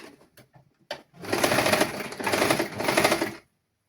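Sewing machine stitching a seam on boys' shorts: a few handling taps, then a continuous close, rapid mechanical whirring run of about two seconds that stops abruptly.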